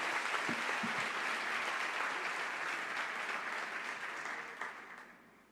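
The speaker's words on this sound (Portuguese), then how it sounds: "Você consegue aplaudir ao Senhor pela sua palavra?" A church congregation claps together in dense, sustained applause that holds steady and then fades away toward the end.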